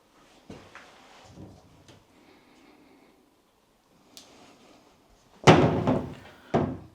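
Cupboard doors in an abandoned 1970s Tudor-style house's kitchen bump and knock faintly at first, then two louder close thuds as doors are shut near the end.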